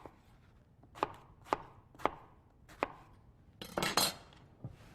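A knife chops eggplant and zucchini on a board in single sharp thuds about half a second apart, followed by a short scraping clatter and a final cut, close and clear.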